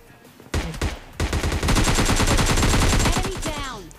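An S12K in a PUBG-style mobile shooter fires a rapid, evenly spaced string of loud gunshots that starts with a few separate blasts and settles into sustained fire.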